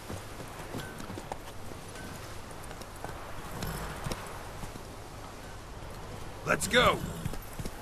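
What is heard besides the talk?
horse Roach galloping in The Witcher 3 video game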